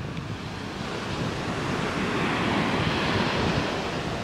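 Stormy sea on the south coast of Ireland in January 2014, a continuous roaring wash of surf and tide surging in, loud and close with heavy wind buffeting the microphone and no voices.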